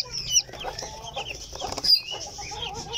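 Newly hatched Silkie chicks peeping, high thin chirps that overlap in quick bursts, close and moderately loud, with faint rustling underneath and no speech.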